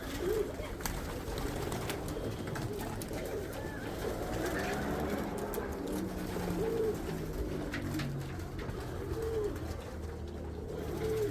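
Racing pigeons coo softly on a roof outdoors, several faint, spaced calls rising over a low, steady background.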